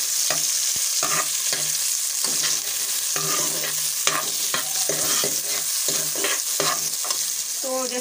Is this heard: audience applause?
no